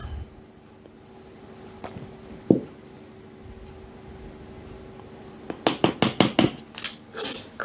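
Rhubarb sponge batter being mixed in a bowl: quiet at first with a lone knock, then a quick run of scraping clinks and soft thuds of a spoon against the bowl, close up and without talk.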